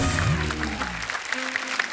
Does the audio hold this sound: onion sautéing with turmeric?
no